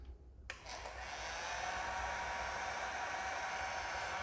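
A heat gun blows steadily on headlight tint film on a Jeep Grand Cherokee, a loud continuous hiss of air starting after a short click and holding level to the end.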